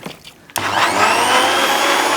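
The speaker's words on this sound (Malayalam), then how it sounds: "ബീട്രൂട്ട് ലൈമാണ് ഇനി ഉണ്ടാക്കണം കേട്ടോ മിക്സിൻ്റെ ജാറിൽ ഇട്ട് കൊടുത്തു ചെറുനാരങ്ങ നീര് ഒഴിച്ചു കൊടുത്തു പഞ്ചസാര ചേർത്തു വെള്ളം ഒഴിച്ചു" A kitchen mixer jar with beetroot, lime juice, sugar and water switches on after a brief rustle and blends with a loud, continuous motor roar close by.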